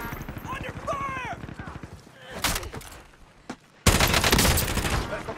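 Video game gunfire bursts out in loud rapid volleys, with dense firing in the middle and a sustained heavy barrage in the final seconds, under and after a stretch of game voice talk.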